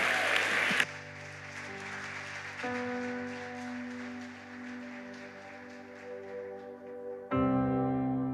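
Steady applause and cheering from a church congregation for people being baptized, loud at first and continuing under a sustained worship music pad.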